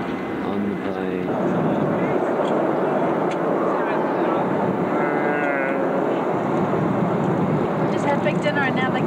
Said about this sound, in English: On the plane.